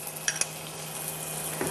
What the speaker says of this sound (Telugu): ఒక 1/2 స్పూన్ మేగడ తీసుకుని పోపులో వేస్తున్నాం